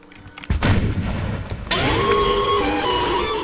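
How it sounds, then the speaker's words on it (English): Cannons fire in a video game encounter: a sharp blast followed by a second heavy boom that rolls into a sustained loud rumble with mechanical clatter, close and dominant, no talk. "you go back and toggle these cannons"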